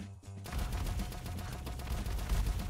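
Snow gun firing in a penguin Vampire Survivors-style video game, a dense rapid burst of shots that starts after a short pause and keeps up steadily.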